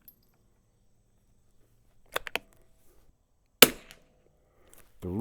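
Shots from a vintage rifle at an outdoor range, a few sharp isolated cracks spread across several seconds, with quiet gaps between them.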